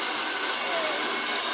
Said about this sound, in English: I have my hair dryer.